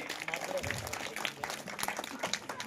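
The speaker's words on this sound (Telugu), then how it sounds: "అందరికీ గట్టిగా చప్పట్లు కొట్టి" Clapping from a church congregation at a Sacred Heart of Jesus festival, a brief burst of scattered hand claps heard under someone speaking into a microphone.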